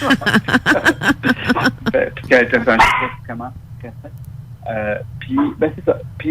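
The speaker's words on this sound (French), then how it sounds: "Oh, ça, c'était un chien." A dog barks in a quick burst of sharp, high-pitched yaps close by at the start, while people keep talking over and after the barking.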